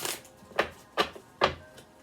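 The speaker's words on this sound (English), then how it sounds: "So let's give a shuffle." Three or four quick papery riffles of an oracle card deck being shuffled, close and crisp, separated by short pauses.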